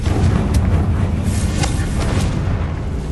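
A heavy, booming fire-spell blast from the game Hogwarts Legacy, a dense low rumble with crackling bursts that fills the whole moment.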